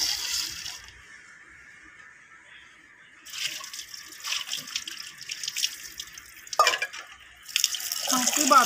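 A tap runs in bursts while a gas stove burner is washed at a home sink, water splashing and hissing close by with pauses between flows, and a voice is heard over it.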